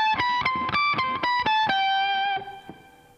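Pick-tapped guitar harmonics in the piccolo register ring out as about eight bright, bell-like notes in a quick, even rhythm, then a final sustained chime slowly decays, all close and clean with no talking.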